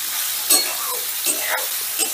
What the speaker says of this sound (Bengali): এবারে গ্যাসের আঁচটা বাড়িয়ে দিয়ে নুন হলুদ দিয়ে সোয়াবিনটাকে বেশ লাল লাল করে ভেজে নেব।